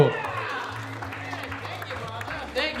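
Comedy club audience applauding a comic onto the stage, a continuous patter of many hands at moderate level with crowd noise, a host's voice running over it and a brief swell near the end.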